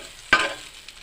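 Ginger hits a hot pan to sauté for pork humba, giving a sudden close burst of sizzling that quickly settles into a quieter hiss.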